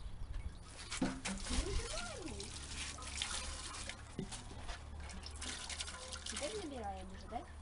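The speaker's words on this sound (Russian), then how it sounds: "Наберем воды." At a country dacha, water is drawn to fill a container, with splashing, trickling and dripping at close range while people talk quietly nearby.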